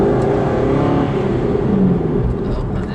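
GT8 car accelerating hard from inside the cabin, a loud steady engine drone rising in pitch over a few seconds.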